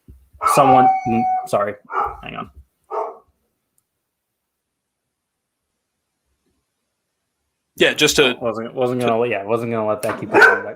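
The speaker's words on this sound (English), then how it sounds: "That is my dog freaking out over nothing." A pet dog barks and yips excitedly in a home while someone talks, its outbursts mixed in with his speech at the start and end, separated by a silent gap.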